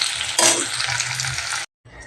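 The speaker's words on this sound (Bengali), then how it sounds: "আলুটাকে হালকা ভেজে নেবো" Potatoes lightly frying in a pan as they are stirred, giving a close, steady sizzle with a scraping stir burst near the start before the sound cuts out briefly and resumes more quietly.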